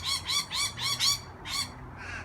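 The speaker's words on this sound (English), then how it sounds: "check out the competition for the apples between all the parrots" Wild parrots squawk while competing for apples: a run of five loud, harsh calls in quick rhythm, a short pause, then another squawk and a fainter call, close by with no talk.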